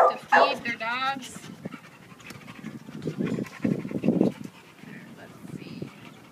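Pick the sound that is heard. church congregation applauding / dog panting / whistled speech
dog panting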